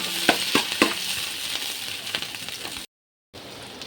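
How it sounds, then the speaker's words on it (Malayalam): Sliced green chillies frying with coconut pieces in hot oil, giving a steady close sizzle with a few sharp crackles and stirring scrapes, then a brief silent gap before the sizzle resumes. "നമ്മൾ അതിനകത്തോട്ട് ഇനി പച്ചമുളക് ഇനി വട്ടത്തി അരിഞ്ഞതും കൂടെ ചേർത്ത് കൊടുക്കാം"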